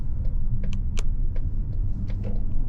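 Cabin of a 2025 Mazda CX-70 Turbo S SUV with a 3.3L six-cylinder, taking a turn in sport mode at low speed: a steady low road and engine rumble with scattered faint clicks and rattles.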